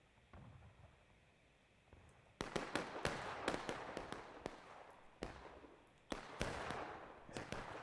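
Musket volleys in a Civil War video game: a string of sharp, crackling gunshot reports, some fired singly and some in quick bursts, heard fairly far off over a low ambient bed.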